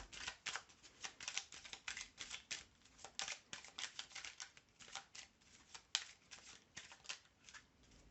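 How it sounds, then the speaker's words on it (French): Tarot cards being shuffled, a quiet run of rapid riffling and flicking bursts in an uneven rhythm, close by with no talking. "Allez, je remélange."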